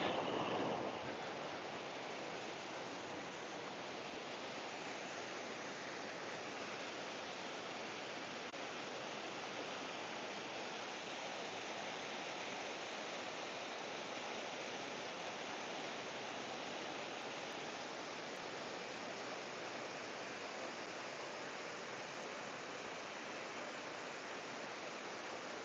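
A small river waterfall in Morzine, a village in the Alps, rushes in a steady, continuous roar that holds evenly throughout, with no voices.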